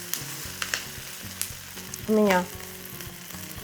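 Chopped onion sizzles and crackles in a hot pan while being stirred, with scraping knocks of the utensil at intervals; a voice briefly speaks midway over the frying.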